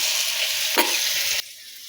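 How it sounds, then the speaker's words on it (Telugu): Tomatoes fry in oil already used for frying fish, a loud steady sizzle that carries on close up, briefly stirred, then drops sharply quieter near the end, with no talking. "చేప వేయించిన నూనెలోనే టమాటాలు వేసి వేయించుతున్నాను."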